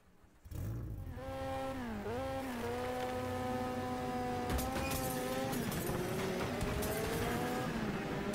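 In the video game Next Car Game, a car drives onto a gravel track, its engine rising into a loud, continuous revving whine that dips and climbs through gear changes, with crunching tire noise and no talk.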